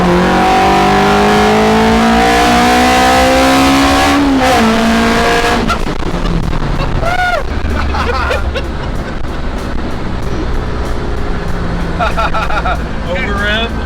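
A VTEC car engine revving hard past 8000 rpm, its loud whine climbing steadily in pitch before a sharp shift, followed by roaring acceleration with tire and road noise and voices in the background.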